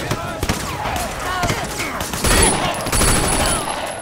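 Gunfire from the video game Sleeping Dogs rattles in a loud, dense volley of overlapping shots with a continuous mechanical clatter, and a voice is heard reacting alongside it.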